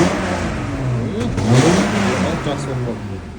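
A car engine revs with the gas pedal pressed after catalytic converter cleaning, a loud, continuous rising and falling roar heard up close.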